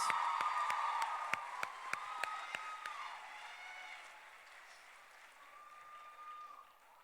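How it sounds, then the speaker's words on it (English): Audience at a 2019 citizens assembly candidate forum applauds both candidates, a broad wash of clapping with a few sharp individual claps standing out, gradually thinning and fading over several seconds. "Let's give both candidates a round of applause before we get to closing statements."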